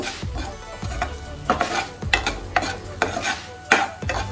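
Chopped onions for butter chicken are stirred in a pan without oil, a close sizzle broken by a regular rhythm of clacking strokes from the spoon against the pan.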